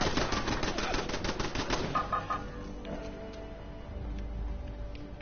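Automated turrets in the video game Fallout 76 fire rapid bursts of gunfire at enemies for about two seconds, then fade to scattered distant shots and quieter game ambience.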